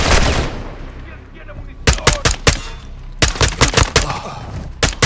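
Bursts of automatic gunfire aimed at an aircraft in the Call of Duty: Modern Warfare 2 video game, loud, sharp volleys in two rapid clusters after a rumbling opening, with voices briefly heard.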